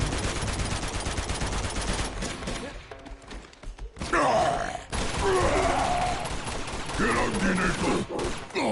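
Sustained gunfire rattles in rapid automatic bursts during an Uncharted firefight, loud and dense, breaking briefly before resuming amid shouting voices and in-game dialogue.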